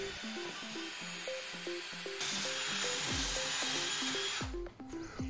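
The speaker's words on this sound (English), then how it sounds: "clamp it in place, and drill a hole for the bolt." A power drill bores a bolt hole through a wooden cornhole frame, its motor whining in stepped pitches as it starts and stops, then a steady loud grinding through the wood, close up.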